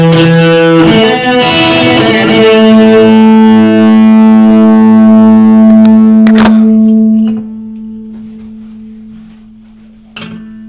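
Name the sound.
guitar played through a Twin Reverb amp with reverb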